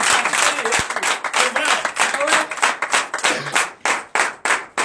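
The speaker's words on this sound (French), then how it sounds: "je vous demande d'applaudir très fort" Loud, rapid applause from a church congregation during a Sunday service in Comè, Benin, a dense wash of clapping hands with rhythmic bursts, close and continuous.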